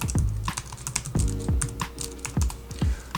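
Keys clatter on a computer keyboard as a plugin name is typed into a search box, a quick run of close, crisp clicks in uneven bursts with brief pauses and no talking.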